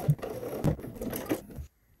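A sewing machine runs a short burst of stitching along a bodice lapel seam, with rapid, light mechanical clicks close by that stop abruptly, leaving near silence.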